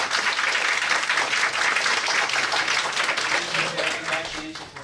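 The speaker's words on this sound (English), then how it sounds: "first let's give a round of applause." Loud, dense applause from an audience at a research administration session fills the space, sustained clapping that tapers slightly near the end with faint voices underneath.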